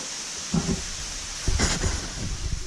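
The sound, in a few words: rain starting to fall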